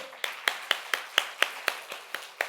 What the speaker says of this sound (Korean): 제일 목소리 큰 사람 박수